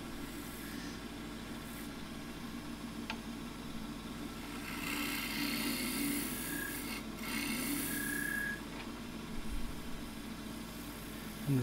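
A hand scraper shears a small scrap of pistachio wood spinning on a lathe, giving a steady, soft rasping hiss that swells slightly in the middle and runs continuously without talk.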